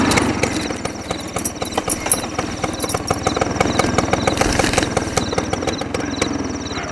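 A scooter engine runs steadily and close by, a continuous rhythmic engine drone with repeated sharp ticking throughout, no voices over it.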